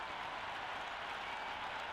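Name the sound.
cricket crowd cheering and applauding before the first ball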